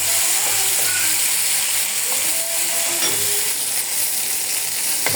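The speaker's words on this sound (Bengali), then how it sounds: "এই হয়ে গেছে, ভালো করে ভেজে নেওয়া হয়েছে।" Tomatoes frying in a pan for tomato bhorta, a steady bright sizzle running throughout with occasional stirring scrapes, close and continuous with no talking.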